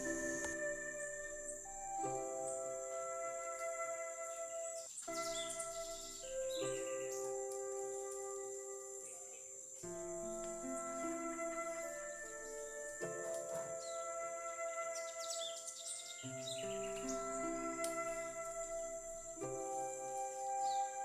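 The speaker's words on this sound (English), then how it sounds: "there are so many birds coming and going all day" Many birds call in a berry-laden tree: faint, scattered chirps and tweets recur through a quiet, steady background, with no nearby voices.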